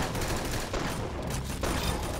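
Rapid revolver gunshots in the Roblox video game crack out in a dense, loud burst of fire that fills the whole short stretch with little pause between shots.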